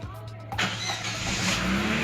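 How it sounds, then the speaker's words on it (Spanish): A Chevrolet Aveo with a faulty engine computer cranks briefly, then its engine catches and settles into a steady, moderately loud idle that continues to the end, heard close by with faint background noise. "Ok, ahí ya arrancó el vehículo."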